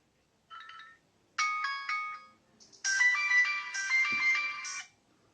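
A melodic phone ringtone plays in short electronic chime phrases, a brief snippet, a pause, then a longer bright tune, clear and close.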